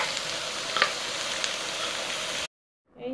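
Onion and tomato fry in a pan with a steady crackling sizzle and a couple of faint utensil taps, stopping abruptly into silence before a short tonal sound near the end.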